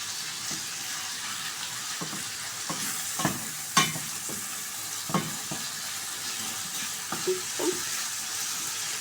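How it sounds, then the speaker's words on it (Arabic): Onion and tomato paste frying in a pot, a steady sizzle running throughout, with occasional scrapes and taps as it is stirred, close and without speech. "من بعد ما غيتشحر لنا شويه لادانت نضيفوا العناصر الاخرى"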